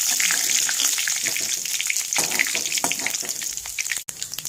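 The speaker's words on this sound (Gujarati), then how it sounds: "હવે આપણે એની અંદર લસણ આદુની પેસ્ટ નાખી દઈશું।" Garlic-ginger paste sizzling and frying in a pan while being stirred, a steady loud crackle with scraping, continuous throughout with a brief dip near the end.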